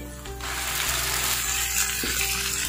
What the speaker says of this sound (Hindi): साथ ही हम इसमें अपना चिकन डाल देंगे